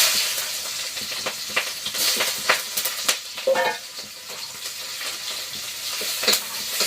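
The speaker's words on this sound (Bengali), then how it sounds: "পেঁয়াজ আর কাঁচা লঙ্কা দিয়ে দিচ্ছি তেলে" Onion and green chili frying in oil on a home stove, a continuous close crackling sizzle with scraping stirs and occasional sharp pops.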